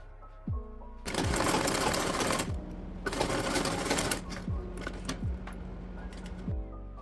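A sewing machine stitches corset boning onto fabric, running in two loud, rapid bursts of clattering needle strokes separated by quieter pauses, close up.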